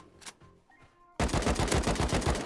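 Gunfire in the video game Rust, a short quiet lead-in, then a loud close burst of rapid automatic fire that continues steadily to the end.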